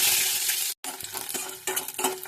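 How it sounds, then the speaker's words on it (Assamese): Chopped onions hit hot oil in a kadai with a bright, loud sizzle, followed by a brief pause and then uneven stirring scrapes over continued frying, close up with no talk. "তেলটো গৰম হোৱাৰ পিছত মই পিঁয়াজ দি দিলোঁ"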